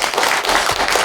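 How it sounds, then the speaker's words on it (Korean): An audience at a Korean women's policy forum in the National Assembly conference hall bursts into dense applause, many hands clapping loudly and evenly for about a second. "우리 범경 선생님께 박수 한번 부탁드릴까요?"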